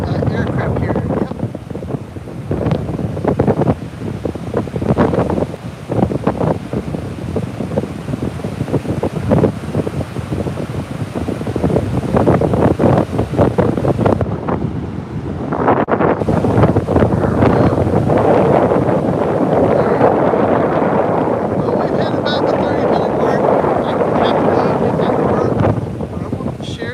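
Strong wind gusts at the beach buffet the microphone in continuous roaring blasts, with faint surf underneath and voices talking now and then.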